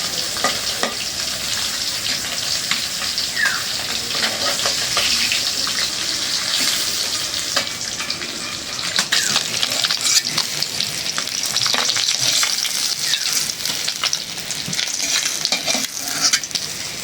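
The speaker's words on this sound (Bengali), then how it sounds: "মাছগুলি ভাজা হয়ে গেছে, উঠাই নি।" Fish sizzles loudly in hot oil in a wok, a dense continuous frying crackle heard up close for the whole stretch, with occasional stirring clicks and no voices.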